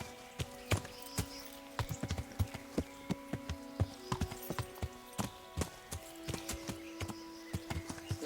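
A horse in the video game Kingdom Come: Deliverance picks its way through a thicket, with crisp, irregular hoof clops stepping close by over a faint background, no talk.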